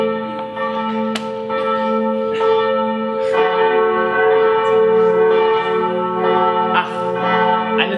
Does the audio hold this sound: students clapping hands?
no